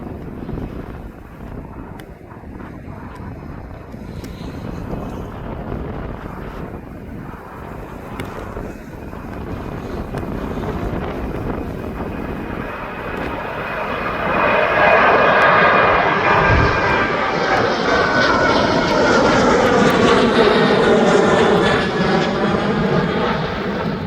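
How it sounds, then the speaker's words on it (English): A TUI airliner takes off and climbs out of East Midlands Airport, its jet roar building from a distant rumble to a loud, sustained sweep that dominates the latter half, with wind buffeting in the background. "here comes this TUI now as he's on his way up."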